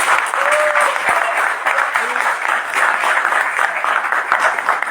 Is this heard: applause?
yes